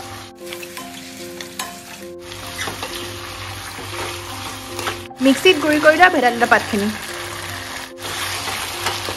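Finely chopped bhedailota leaves, half-boiled potatoes and raw turmeric sizzle in a pan, with bursts of stirring and scraping, while someone talks over the cooking.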